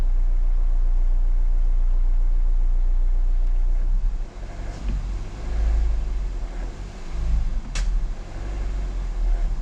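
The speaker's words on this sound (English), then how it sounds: "You see this crackling is happening for some reason." A Mazda2 engine running on a small amount of hydrogen gives a steady low rumble with irregular crackling and a sharp pop near the end, loud and close, with no talking.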